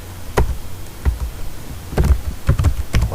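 Keys on a computer keyboard are tapped in short irregular bursts of close clicks with brief pauses between them, as when entering a ping command.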